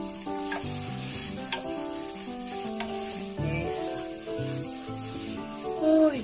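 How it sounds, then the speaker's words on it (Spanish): Onion softens in a frying pan, sizzling steadily and close up while a spoon stirs and scrapes now and then, with no speech over it. "La cebolla empieza a cristalizarse cuando se está sofriendo"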